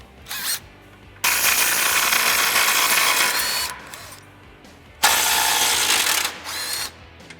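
A ratchet or power tool works loose the cross brace bolts under a 1996-2010 Mustang GT during a transmission job, in two long, loud, steady whirring bursts separated by short pauses and a few brief clicks.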